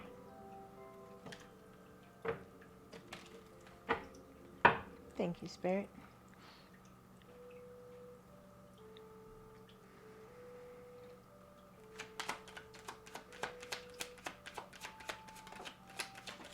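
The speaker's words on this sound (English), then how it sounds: "Let's give it a shuffle here" Tarot cards shuffled in a few bursts of quick, crisp flicking, close by, after a stretch of soft tapping and a brief spoken remark.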